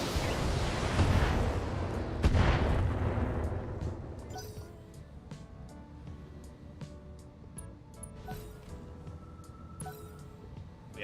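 Heavy weapons fire in the mech combat game BattleTech opens with deep booming blasts and rumbling explosions that fade into a quieter tail of scattered pops and clicks.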